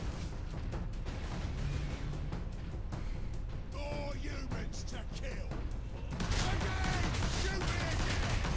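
Pistol gunfire in the video game Space Marine, a string of quick, fairly distant pops and bursts amid game effects and background music, with a voice talking.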